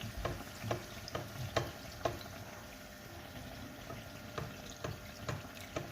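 Fricassée dough fries in hot oil as oil is spooned over the pieces, a steady close sizzle punctuated by light, irregular clicks and scrapes, with no talking.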